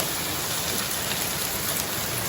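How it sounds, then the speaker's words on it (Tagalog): Heavy, unbroken rain pours down hard during cold-weather flooding, a dense and loud steady hiss with no pauses and no voices. "Sa bugnaw nga panahon, walang tigil na ulan."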